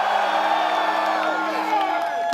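A loud crowd at the World of Warcraft: Mists of Pandaria launch event cheers and whoops continuously, a dense roar of many voices with steady energy throughout.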